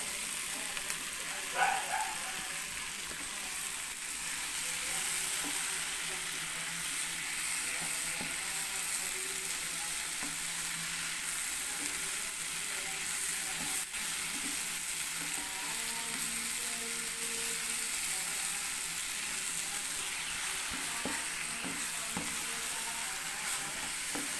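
Finely chopped mushrooms frying in a pan for potato mushroom balls give a steady, even sizzle throughout, with an occasional faint clink of a utensil.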